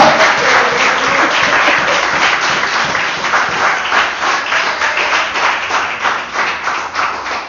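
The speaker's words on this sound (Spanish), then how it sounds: "¿qué tal si nosotros aplaudimos al Rey de Reyes y Señor de Señores?" A church congregation claps together in praise during a Spanish-language sermon, loud and close. The clapping starts dense and gradually thins into a more uneven, rhythmic patter, with no speech over it.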